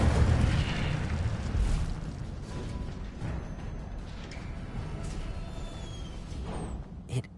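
Incendio fire spell cast in Hogwarts Legacy, a broad roaring whoosh of flame that starts strong and then settles into a sustained rumbling burn, with a small pop near the end.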